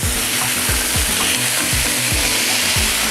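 Onion frying in a pan gives a loud, continuous, close sizzle that fills the clip, with faint music underneath.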